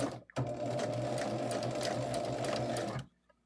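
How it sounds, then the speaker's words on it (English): A sewing machine stitches a quarter-inch seam on a quilt top for a table topper, running in one steady, close whirring burst for nearly three seconds before stopping, with no talk over it. "And I am sewing a 1/4 inch again."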